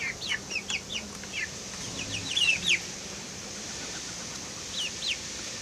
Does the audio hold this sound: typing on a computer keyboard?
no